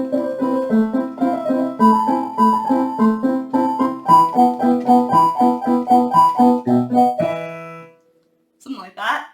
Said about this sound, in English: Most famous Mozart rondo you likely know is the Rondo alla